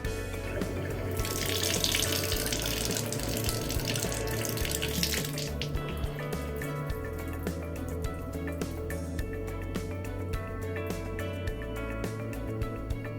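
Water pours steadily from a tap into a kitchen sink above a pipe repaired with JB WaterWeld putty, a full continuous rush that is brighter at first and then settles into a steadier flow with light drips, close and alone.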